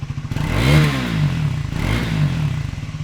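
A Triumph Scrambler 400X motorcycle engine revs up hard twice toward 6,000–9,000 RPM with its standard stock exhaust, pitch climbing high and falling back between two throttle blips, close and loud.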